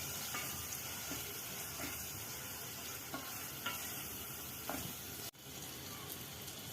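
Masala frying in oil on a low flame for prawn curry, a soft continuous sizzle with faint stirring scrapes at intervals and a brief dropout near the end.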